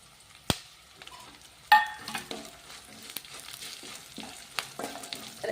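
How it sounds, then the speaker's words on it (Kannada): Curry leaves hit hot oil for coconut rice, giving a sudden crackling burst, then a light sizzle broken by scattered pops and spoon taps against the pan. "ಇವಾಗ ಏನು ಮಾಡೋದಂದ್ರೆ ಕರಿಬೇವು ಹಾಕೋಣ"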